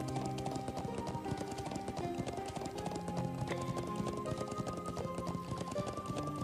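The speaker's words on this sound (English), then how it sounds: "Horsey." Horse hooves clip-clop at a steady galloping rhythm in the video game Trails of Cold Steel, loud and continuous over game music throughout.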